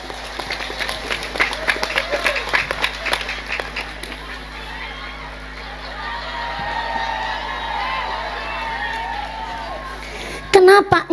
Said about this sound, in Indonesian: Tepuk tangan dingin kok.